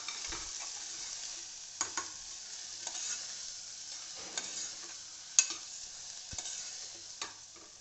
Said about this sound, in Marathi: सगळं मिसळून घ्यायचं आहे चांगलं.